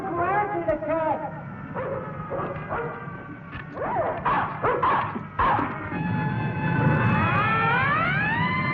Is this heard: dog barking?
yes